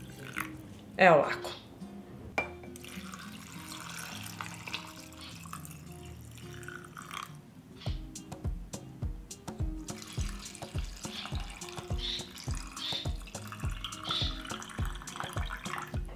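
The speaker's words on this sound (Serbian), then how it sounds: "Sada ću naliti toplu vodu u tegle." Warm water is poured from a vessel into glass jars, a running, splashing flow with rhythmic gurgling pulses toward the end, while someone talks over parts of it.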